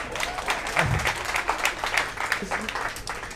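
Audience applause at a talk in Kenya, dense steady clapping from a crowd over the full stretch, fairly loud and close, with a voice briefly audible beneath it.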